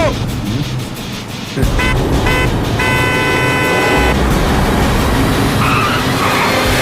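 A car drives fast on a road in an action thriller scene, with a loud close engine roar, a sudden surge, tire skidding and a brief horn, and voices shouting over it.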